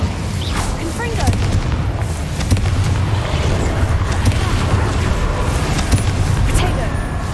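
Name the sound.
explosive spells cast in Hogwarts Legacy video game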